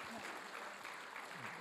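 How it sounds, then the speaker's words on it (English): Church congregation clapping together in a sustained, steady wash of applause, close and even throughout, with faint voices mixed underneath. "Let's give them a clap."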